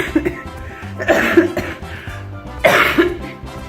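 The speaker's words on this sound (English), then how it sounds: "of course I have a coughing fit just doing a shameless plug" A person coughs in several harsh bursts, two stronger fits about a second and a half apart, with some throat clearing between.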